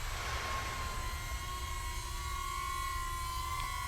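A small DJI Neo drone flies a circling quickshot, its steady high-pitched propeller whine holding a constant tone with faint shifts, loud and continuous over a low rumbling background with no talking.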